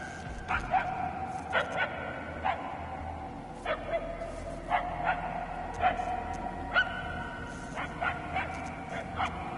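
Repeated dog barks and yips from a dog unseen in the Guardians of the Galaxy video game, coming in irregular bursts of a few barks each with short whimpers between, moderately distant over a steady low ambient hum.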